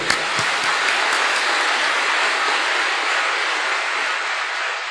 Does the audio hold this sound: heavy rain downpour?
no